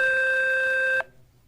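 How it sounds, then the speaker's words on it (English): A quiz show contestant's buzzer sounds during a test, a steady, loud electronic tone that holds for about a second and then cuts off abruptly, leaving near silence. "Let's just try your buzzer again so the light comes on."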